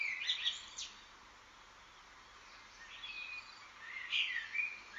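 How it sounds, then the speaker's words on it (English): Birds sing outdoors, a mockingbird among them, with faint chirps and short whistled phrases in a few bursts over quiet background hiss. "when I mean birds, I literally mean birds"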